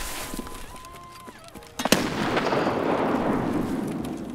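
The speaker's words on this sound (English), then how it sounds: "I'm throwing a nade at him." A grenade in Escape from Tarkov goes off with a loud, close blast, preceded by a few sharp clicks and followed by a long, noisy debris rumble.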